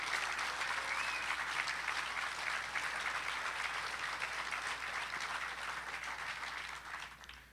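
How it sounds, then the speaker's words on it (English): An audience at a driver appreciation event honoring Vietnam veterans gives a sustained round of applause, an even wash of many hands clapping that fades toward the end, faint and distant in level. "Let's give them another round of applause."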